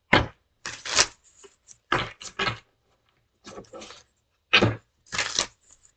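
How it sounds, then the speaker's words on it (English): Tarot cards being shuffled by hand in short, crisp riffling bursts separated by brief pauses, close and fairly loud, with no talk over them. "I don't like these cards to shuffle."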